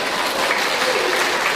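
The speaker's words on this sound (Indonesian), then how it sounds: "Nggak usah tepuk tangan" Audience applause fills a church sermon hall, a steady dense clatter of many hands clapping at once, sustained and fairly loud from start to finish with no voices over it.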